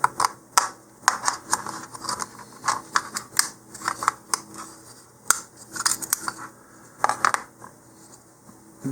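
Scissors snip out the pieces of an Apogee Katana Jr model rocket kit: close, crisp cuts that come in irregular runs with short pauses between.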